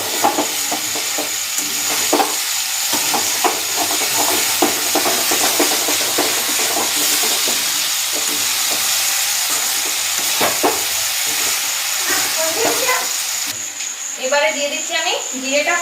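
Tomatoes sizzle and fry loudly in a hot pan while a utensil scrapes and stirs them in irregular strokes, a continuous hiss throughout, with a voice speaking near the end.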